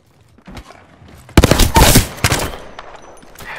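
Gunfire in the Apex Legends video game: a loud, dense burst of rapid automatic shots erupts after a quiet start, tapering into scattered, fainter reports.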